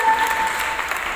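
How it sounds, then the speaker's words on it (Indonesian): Applause from an audience welcoming a celebrity to a boxing event, a brief burst of clapping throughout with a faint voice beneath it. "Tepuk tangannya untuk Paris Hernandez"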